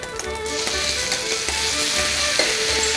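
Seasoned lamb sizzles in a heated frying pan, a continuous close crackling hiss with faint stirring sounds throughout, steady in loudness and without voices.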